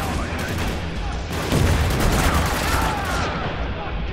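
Grenade explosions and rapid gunfire in the shooter Spec Ops: The Line form a dense, continuous battle roar with a heavier boom swelling midway, and a voice talks over it.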